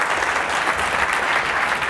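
Audience applause after a lecture at Rutgers University, a steady dense wash of clapping from a crowd, fairly loud and continuous with no voices over it.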